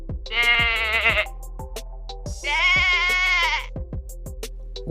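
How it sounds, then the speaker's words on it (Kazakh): A sheep gives two long, wavering bleats close by, separated by a short gap, with no voices. "Қой."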